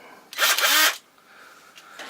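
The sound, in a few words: Ridgid power drill running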